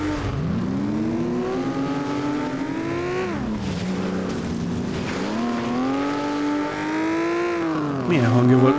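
In the racing game FlatOut, a car engine revs hard at full speed on nitro, its pitch climbing and dipping through shifts with squealing tires, loud and continuous, with a voice speaking faintly underneath.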